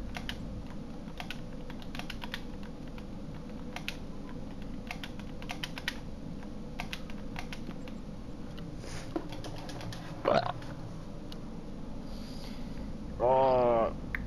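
Steady, rapid keyboard typing patters through most of the stretch at moderate level, mixed with game or room background and a couple of brief louder sounds near the end, played over a Grand Theft Auto V session.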